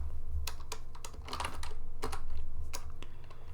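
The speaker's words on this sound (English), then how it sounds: "And we can type some data in here." Rapid typing on a computer keyboard into a Notepad text file, a steady run of crisp close key clicks with brief pauses over a low background hum, no voice.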